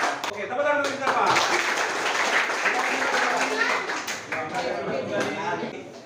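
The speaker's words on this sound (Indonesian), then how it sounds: "silakan tepuk tangan 2 kali" Classroom of pupils clapping hands in unison, a dense burst of claps running throughout, loud and close, with a teacher's voice and children's voices mixed in.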